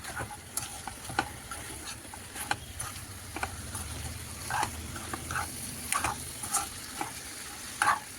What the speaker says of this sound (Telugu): ఓన్లీ చికెన్, సాల్ట్, అది కూడా కొంచెమే సాల్ట్ అండ్ పసుపు మొత్తం చికెన్కి పట్టేటట్లు కలిపి